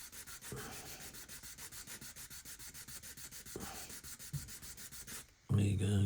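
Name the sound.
sanding a 1/32 Tornado F3 model kit part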